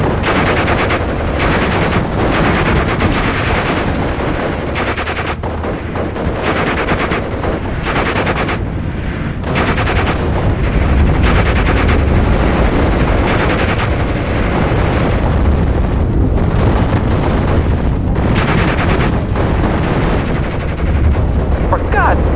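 Sustained gunfire and machine-gun bursts in the WWII Normandy strategy game Steel Division: Normandy 44, loud and dense throughout, with heavy booms and battlefield voices mixed in.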